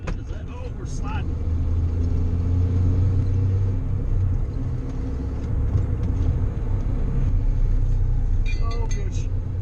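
A 1994 Chevy S10 pickup slides on a dusty dirt road, its engine a steady close rumble with loose gravel and dust hissing under the tires throughout. Faint brief sounds rise near the start and end.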